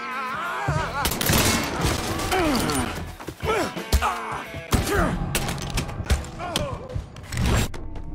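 Gunfire in the open-world crime game Mafia III, with repeated loud shots and crashes in a chaotic firefight under shouted voices and game music.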